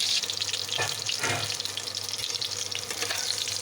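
Meatballs frying in a little hot oil in a wok give a steady, close, even sizzling hiss that runs the whole time with no voices.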